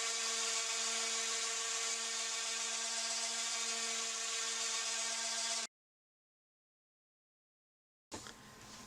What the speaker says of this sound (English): I also sand the inside edge of the frame to remove any potential rough edges.